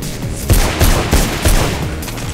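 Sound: machine gun fire in the video game Mirror's Edge

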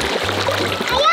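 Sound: water splash in a swimming pool

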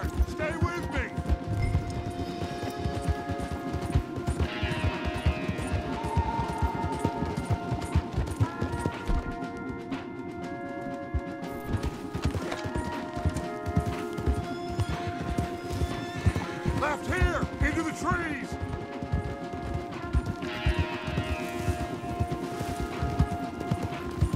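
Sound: horses galloping and neighing, from a video game

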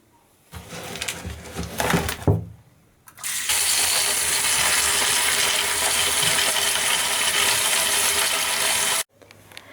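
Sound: rinsing aquarium gravel in water

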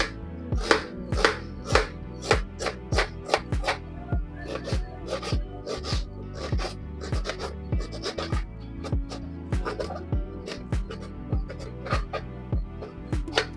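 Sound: chopping onions into small pieces with a knife

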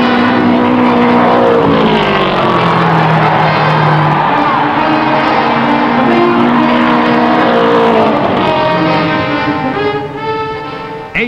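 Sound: race cars roaring past at 1960 Indy 500

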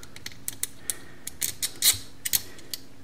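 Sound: washer being put onto a bolt on a camera mount

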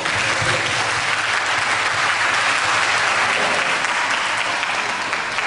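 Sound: audience applause at school show

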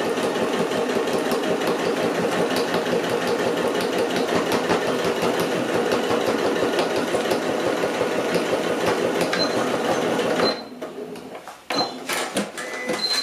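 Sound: sewing machine stitching a reusable tote bag

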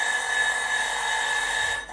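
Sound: kitchen timer going off

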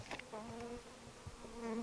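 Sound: honeybees buzzing

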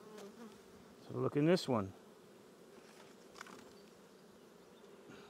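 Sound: honeybees buzzing around an open beehive

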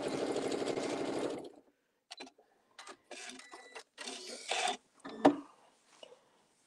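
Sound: sewing machine sewing a table mat

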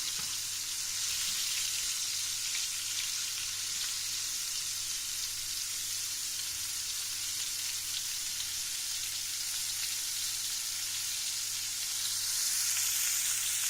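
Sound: mushrooms frying in a pan

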